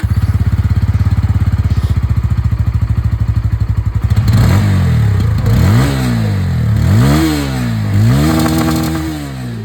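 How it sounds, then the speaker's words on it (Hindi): A 160cc motorcycle with an underbelly exhaust idles with a loud, rapid thumping, then revs up several times, each rise and fall of the engine note clearly audible and close. "और अब मैं आप लोगों को यहाँ पर इसकी जो एग्जॉस्ट साउंड है वो सुना देता हूँ।"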